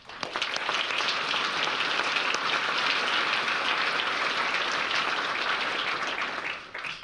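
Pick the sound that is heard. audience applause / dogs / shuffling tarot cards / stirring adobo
audience applause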